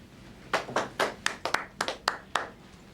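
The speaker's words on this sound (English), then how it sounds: "A round of applause for Sparksy and his little mate." A small group of people clapping together in a round of applause, a series of sharp, fairly close hand claps that are uneven in rhythm, heard over a low room hum with no talk.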